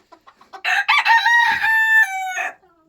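A rooster crows loudly and close by, a long ringing call preceded by a few short clucks, with no talking.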